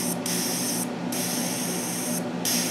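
A faulty Porter Cable nail gun, its trigger pulled, lets out a continuous close hiss of escaping air with a couple of brief dips in tone, and no voices.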